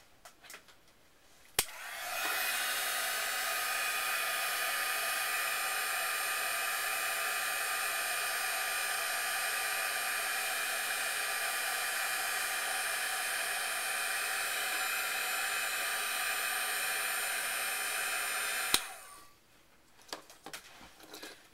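A heat embossing tool switches on with a click and blows hot air over stamped paper in a continuous steady whir for about seventeen seconds, then clicks off, close and fairly loud.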